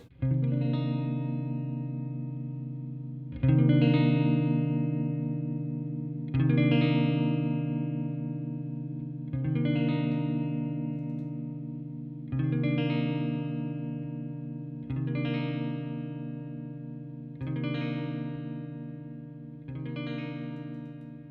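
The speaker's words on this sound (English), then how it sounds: "We are going through my Fender, the twin reverb today" A 1962 Fender Musicmaster electric guitar through a clean, warm Fender Twin Reverb amp with reverb, one chord strummed and left to ring, repeated about eight times at a steady pace.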